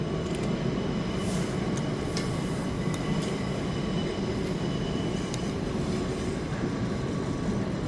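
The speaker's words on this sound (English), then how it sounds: "That's a train station. That is London Bridge." Trains rumble steadily through London Bridge station, a loud continuous roar of wheels and rail noise with faint metallic squeals and clicks, close and unbroken throughout.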